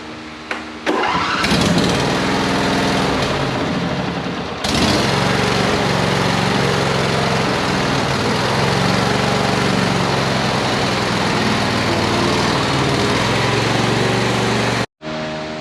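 A John Deere L120 lawn tractor engine cranks and catches near the start, then runs loud and steady, rising in speed about a third of the way in. It idles on until it cuts out abruptly near the end and briefly restarts.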